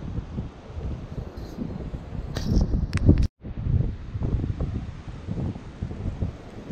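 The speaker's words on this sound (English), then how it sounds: "Got real windy in the last hour." Steady wind buffets the microphone in low rumbling gusts, with a brief dropout midway and faint rustling throughout.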